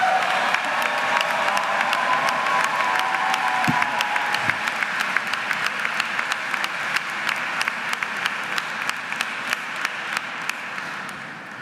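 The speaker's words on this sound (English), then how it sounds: "can you give them one last gigantic round of applause" A large audience gives sustained, dense applause for graduates at a university School of Education pre-commencement ceremony, with steady clapping and light crowd noise throughout.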